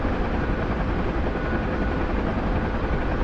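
A Huey UH-1 helicopter in a combat search-and-rescue video game flies with a loud, steady, dense rotor and turbine roar that fills the whole clip without any break.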